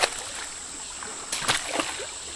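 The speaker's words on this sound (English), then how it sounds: "I got lost in a fucking creek" Water in a creek splashes and sloshes in a few scattered bursts, one sharp at the start and more near the middle and end, over a steady outdoor hiss, close by during mountain biking on a trail.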